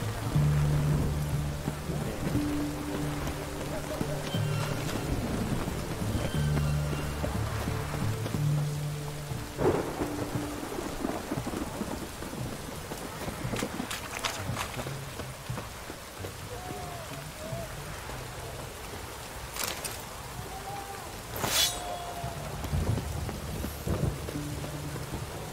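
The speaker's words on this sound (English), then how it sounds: "Of course it's raining." Steady rain and rolling thunder from a stormy scene in the video game The Witcher 3, with the downpour constant throughout and several sharp thunder cracks near the end, faint talk underneath.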